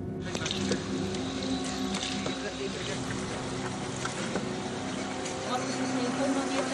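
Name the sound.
motorboat moving through flooded streets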